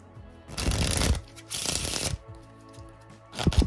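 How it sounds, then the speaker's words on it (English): Playing cards shuffled close up in two fluttering riffle bursts, each about a second long, followed by a brief tap as the deck settles. "Maybe we give them another shuffle."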